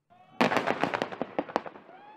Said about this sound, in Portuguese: De repente, a explosão.